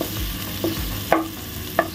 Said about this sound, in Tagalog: Yan, gigisan natin konti.